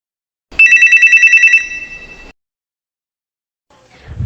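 Telephone ringing in a loud, close burst of rapid repeated electronic bell tones lasting about a second, then a sustained tone that cuts off; silence follows before faint low rumbling noise.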